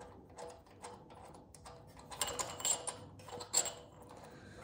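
A ratchet wrench, 10 mm, snugs the float bowl bolt back onto a stock Predator 212 carburetor, giving quiet, close, irregular clicking and metallic ticks with no talk.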